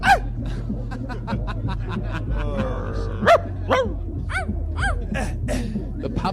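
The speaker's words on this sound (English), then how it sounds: "The puppies have been released here." Puppies bark and yelp in a crowd, with many short high-pitched yips and whimpers in rapid, irregular bursts throughout. Audience noise and a low hum sit underneath, and people chatter faintly.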